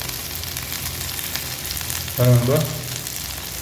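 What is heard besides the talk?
fish frying in a pan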